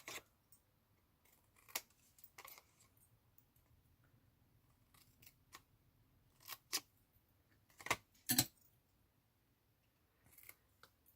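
Scissors snipping a card gift box along its score lines, producing sharp, sparse cuts spaced irregularly, close and quiet against near silence.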